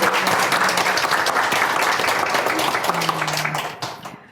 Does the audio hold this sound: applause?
yes